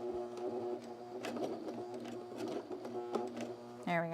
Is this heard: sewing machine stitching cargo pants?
yes